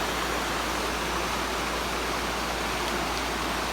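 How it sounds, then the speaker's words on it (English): Water of a mountain stream rushes down steadily, a dense, even broadband hiss with no pauses, close and continuous. "this is one of the mountain streams that comes down"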